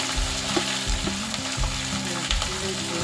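Green chilies and garlic fry in hot oil for a garlic pickle, giving a constant close sizzle broken by repeated scraping stirs of a spoon against the pan.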